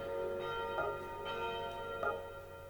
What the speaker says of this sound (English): The bell tolling.